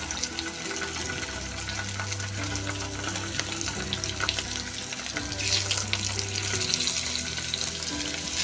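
Fish frying in hot oil with curry leaves in a home kitchen, a steady crackling sizzle running throughout, growing brighter and louder in the second half as more pieces go in.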